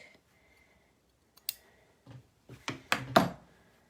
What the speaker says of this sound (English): now I'm going to cut off all of my little threads, taking care not to cut my fabric